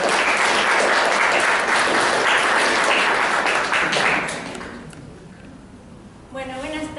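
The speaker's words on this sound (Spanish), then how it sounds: "Un fuerte aplauso para ellos." Strong, sustained applause fills a hall at a literature and reading event in Arequipa, then dies away after about four seconds into quiet, with a speaker starting to talk at the end.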